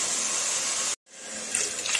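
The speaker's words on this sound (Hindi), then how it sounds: "एक और मैं पानी का इसमें डालूंगी" Water pours steadily from a mug into a pot for cumin rice, a loud, close splashing stream that briefly cuts off and then starts again.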